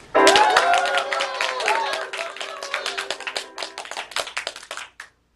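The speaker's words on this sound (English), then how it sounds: "applaud now for the red team in the game of Countdown" An audience at a team game show applauds for the red team after a round of Countdown, dense clapping mixed with shouting voices, loud at first and then thinning into scattered claps that stop near the end.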